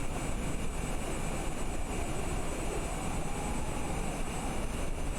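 Airliner engines roar steadily through a takeoff in Microsoft Flight Simulator 2020, a loud continuous broadband drone with a high whine running throughout and no voices.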